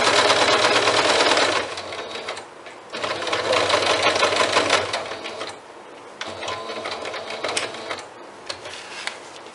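Sewing machine stitching bias binding onto a bag, loud and close. It runs in bursts of rapid needle chatter with short pauses between the runs and some fainter, slower stitching between them.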